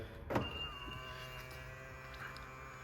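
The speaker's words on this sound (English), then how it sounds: "So press it there, ring mirrors fold in and is locked" Motorized side mirrors fold in on a Mitsubishi Shogun Sport as it locks, a faint steady electric whir with a small click at the start, close by and without talk.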